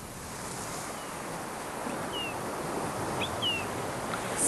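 Waves break on a winter shoreline within sight of Rathlin Island, a steady, diffuse wash of surf with wind noise and a few faint bird calls.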